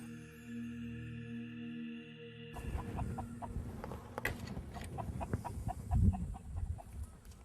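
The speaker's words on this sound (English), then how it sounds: "The chicken." A chicken clucks in short, repeated bursts, fairly close and clear, with no talk over it after a brief quiet lead-in.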